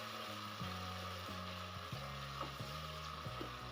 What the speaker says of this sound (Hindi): अब हम इसमें 2 टीस्पून अदरक लहसुन का पेस्ट शामिल कर देंगे और इसको हम भूनेंगे